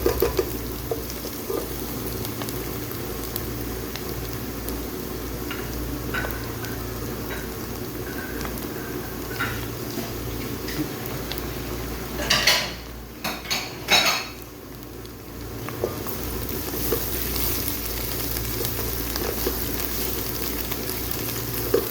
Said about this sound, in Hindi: तो हम फ्राई करेंगे अदरक लहसुन को।